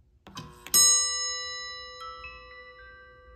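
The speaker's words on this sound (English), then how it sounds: "So when I push the button, it energizes the circuit and rings the bell." A mechanical doorbell chime wired to a Ubiquiti G4 Pro doorbell through a transformer rings once, close and clear, its bright metallic tone sustaining and slowly fading into silence.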